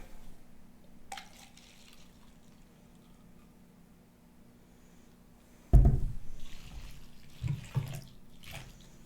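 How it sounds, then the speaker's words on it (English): Water poured into liquid soap for a homemade soapy fingerpaint, a quiet low rumble and then a short splashing pour that fades out, with a second brief burst of splashing near the end. "And we'll add 1 part water."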